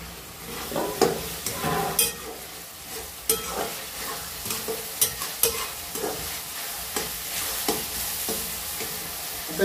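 Tomato and onion frying in a pan for egg bhurji while a spoon stirs, giving a steady sizzle broken by irregular scraping knocks, close and moderately loud.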